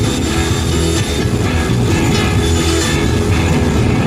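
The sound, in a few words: jet dragster car engine burner pops at drag strip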